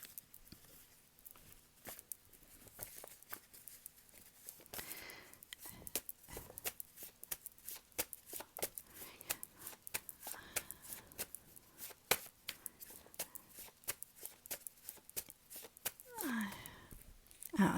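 Tarot-style cards handled and shuffled close up, a dense run of quick flicks and soft slaps continuing steadily, with faint speech in places.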